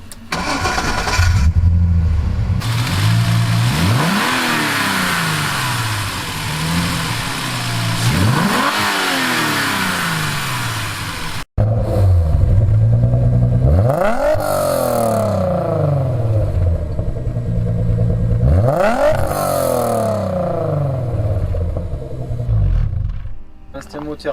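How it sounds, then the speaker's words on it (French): A Ford Capri Mk3 Zender, swapped to a 1998 2.9-litre Cosworth 24-valve V6, revs hard up close in repeated sweeping blips that climb and fall over a loud rumbling idle, with a brief cut midway. "C'est un moteur Cosworth V6 24 soupapes de 1998"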